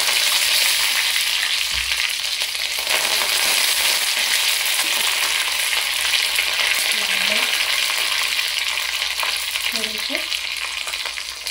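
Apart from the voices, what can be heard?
mustard seeds and curry leaves sizzling in hot oil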